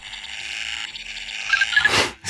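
A LEGO Mario Kart standard kart toy plays electronic driving sounds, a warbling synthetic engine-like buzz with chirpy beeps that builds toward a short louder burst at the end, close and alone.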